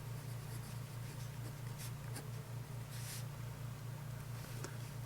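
A Pilot Myu 701 stainless steel fountain pen with a medium nib writes on paper, giving faint, close scratching strokes in short bursts over a low steady hum.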